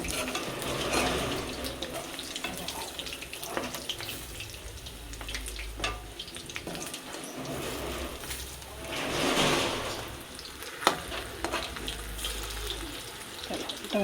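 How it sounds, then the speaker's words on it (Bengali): Steamed cauliflower frying on high heat in a pan: a hissing, crackling sizzle that swells and fades over the clip, with light utensil knocks, close and fairly quiet, no talking. "ফুলকপি ভেজে দেই, তাহলে ভাত খাবে।"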